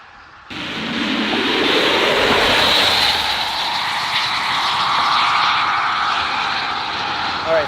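A Tesla P85 Plus launching at a drag strip gives a rising electric whine and rushing roar that swells loudly, then holds as the car pulls away, with no talking.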